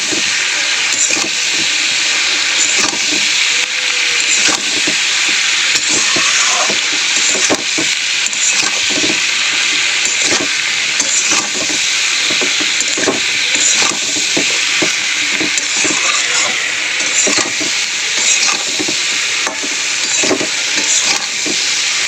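Vegetables sizzling in a hot pan with turmeric, chili powder and salt, a loud steady frying hiss with occasional clicks of stirring, continuous and close throughout, no talk.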